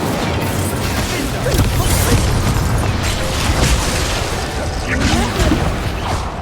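Spell blasts and explosions from a Harry Potter video game, loud continuous booming and crackling battle effects with a voice calling out over them.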